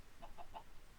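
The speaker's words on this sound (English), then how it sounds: "Chickens are also important." A Minecraft chicken gives three short, evenly spaced clucks, clear and fairly quiet over a soft game background, with no speech.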